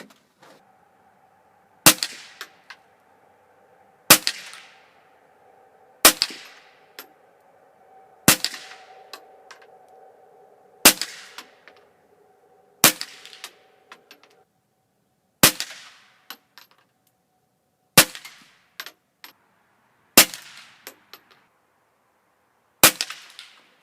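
A Remington Speedmaster 552 semi-automatic rimfire rifle fires CCI Quiet 22 Long Rifle rounds: ten sharp, fairly quiet cracks at a slow steady pace about two seconds apart, each with a brief metallic ring, outdoors with no talking.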